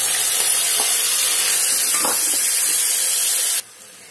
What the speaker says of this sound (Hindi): फिर इसके बाद हम चावल डाल के फ्राई कर लेंगे थोड़ा